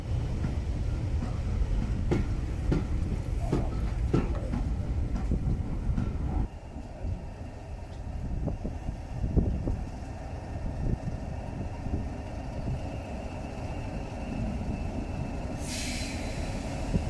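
A Class 37 diesel locomotive train rolls past on the Severn Valley Railway during an autumn diesel gala, a steady rumble with rhythmic wheel clatter on the rails and a hiss of air near the end, no talk.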